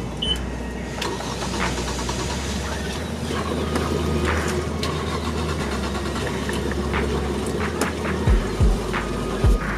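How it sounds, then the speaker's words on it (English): Boat engine on a fishing trip starting and then running at a steady low idle, a continuous low drone with some clatter and brief surges near the end. "Let me get the engine started."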